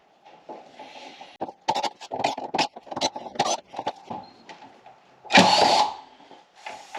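A power driver backs out T30 screws from the fan shroud of a BMW E83 with an M54 engine, giving repeated short bursts of whirring with pauses between them and one louder burst near the end.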